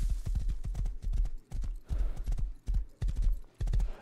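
Horse hooves clip-clop in the survival game Rust, a loud, close, steady gallop of quick rhythmic hoof strikes in grouped bursts with brief gaps between them.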